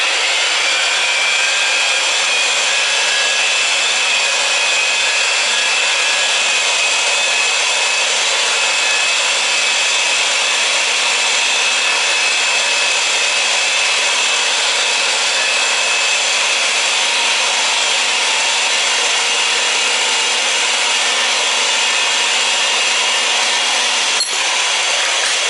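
Power tool running in forward while cutting or reaming during a Generac whole-house generator install, a loud, steady whirring grind held almost unchanged for the full length, close and uninterrupted, cutting off abruptly near the end.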